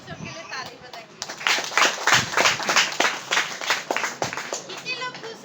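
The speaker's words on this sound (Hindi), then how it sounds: "आइए जोर से परमेश्वर के लिए ताली बजाएंगे।" A village church congregation in Assam breaks into loud, dense clapping for God after a few scattered claps, rising into steady applause with voices mixed in.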